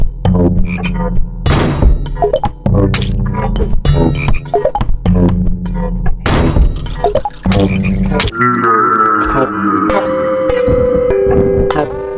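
Frog Lord, a monster in the horror game House, croaks in loud, repeated deep bursts over a droning game soundtrack, ending with a sustained tonal passage.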